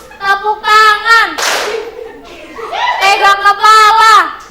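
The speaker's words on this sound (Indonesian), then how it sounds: "tepuk tangan, tepuk paha, pegang kepala, tepuk tangan" Children clap their hands and pat their thighs in a rhythmic classroom game, with the claps and pats under loud sung and chanted voices of a teacher and kids close by.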